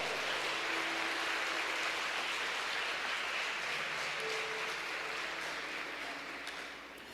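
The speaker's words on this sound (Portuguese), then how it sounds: "Você pode aplaudir e glorificar ao Senhor?" A church congregation applauds steadily for about seven seconds, a dense, loud wash of many hands clapping at once that eases off slightly at the very end, with faint tonal hum beneath.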